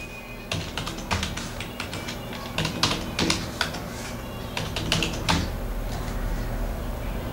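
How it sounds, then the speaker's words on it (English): Rapid clicking keystrokes on a computer keyboard as a password is entered during a Mac OS X Mavericks install on an AMD machine, an irregular run of close, crisp taps with no talk. "You have to type a password."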